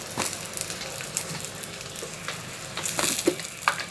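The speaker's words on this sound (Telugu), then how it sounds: "చూస్తున్నారు కదా పెటల్స్ ఏ విధంగా ఫ్రై అవుతున్నాయో" Banana flower petals fry in hot oil, a steady low sizzle broken by a few brief stirring scrapes and crackles close by, with no talking.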